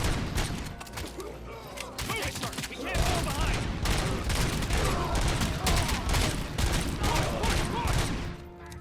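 Dense gunfire fills a firefight in the video game RoboCop: Rogue City, with overlapping volleys, clattering bursts and impacts running loud and nearly continuous, and faint game voices mixed underneath.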